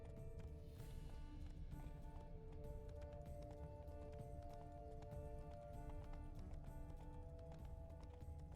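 Steady hoof clip-clop from spooked horses running in the video game Blood and Wine, mixed into a dense soundtrack with music and rumbling noise throughout.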